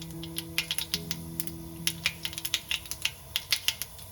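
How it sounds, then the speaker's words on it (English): Mustard seeds crackle and pop in hot oil, a quick irregular patter of small sharp snaps over a low sizzle, close and fairly quiet. "So that's the sound of the mustard seeds spluttering."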